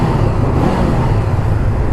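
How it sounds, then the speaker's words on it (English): A Honda CB500R motorcycle engine drones loudly and continuously with no break, a dense low rumble that holds constant throughout. "Okay, engine sound."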